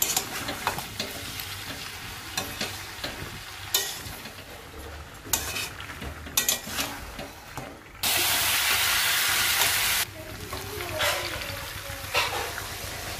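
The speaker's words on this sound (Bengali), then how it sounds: "এবারে আমি মশলার সঙ্গে চিকেন, আলু সমস্ত কিছু একবারে ভালো করে কষিয়ে নিলাম।" Chicken and potatoes stir-fried with spices in a pan give a steady close sizzle and scraping stir, with a louder hissing burst partway through and no talk.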